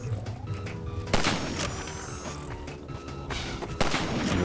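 Sharp gunshots crack out in a Half-Life 2 firefight against soldiers and a sniper, with a few loud reports standing out over a busy background of scattered shots and game noise.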